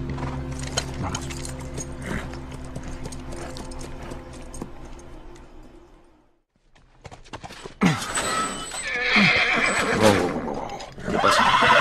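A horse in the video game The Last of Us whinnies after a stretch of clip-clop hooves and a brief hush, the neigh loud and close.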